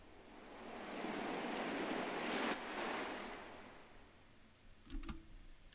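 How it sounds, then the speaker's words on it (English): An ocean wave sample surges in as a broad roaring wash, peaks, then recedes and fades, with a brief low thud near the end and no talk. "This is more of an ocean wave."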